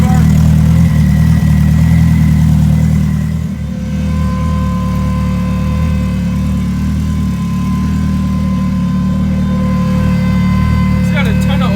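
An EG hatch racecar engine with a sleeved LSV block and GSR head idles steadily up close, a loud mid-low drone with a slight dip midway, while people talk over it.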